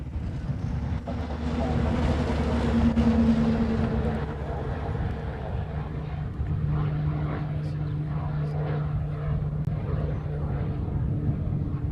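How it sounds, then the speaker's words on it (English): A C-17 military transport aircraft at Honolulu airport gives off a steady, loud engine roar that holds throughout, with a low droning tone and wind rumble and no clear talk over it. "C-17."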